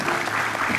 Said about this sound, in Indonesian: Boleh tepuk tangan, saya mau keluar.